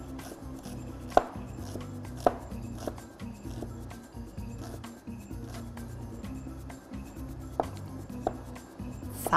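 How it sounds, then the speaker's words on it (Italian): Shallot chopped with a knife on a cutting board: brisk, close, rhythmic chopping taps in quick runs, with a few sharper knocks along the way and no talk. "poi prendo lo scalogno, si trita un po' per dargli profumo"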